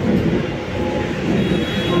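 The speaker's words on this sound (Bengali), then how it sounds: "এই যে মেট্রো যাচ্ছে উপর দিয়ে।" A metro train runs on the elevated track overhead near a station, giving a steady, loud low rumble of rail noise that continues throughout with no talk.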